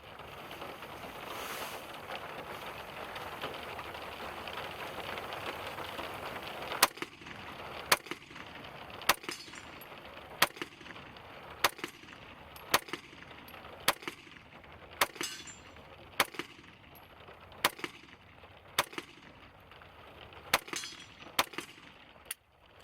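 Smith & Wesson SD9VE pistol firing Federal brass rounds: about fourteen sharp shots at a steady, unhurried pace, loud and close over wind noise, with no talking.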